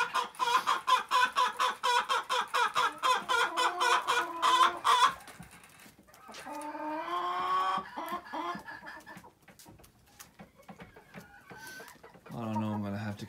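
Backyard chickens clucking close by, a rapid run of repeated clucks, then drawn-out calls and squawks with a short crowing burst at the end; no talk over it.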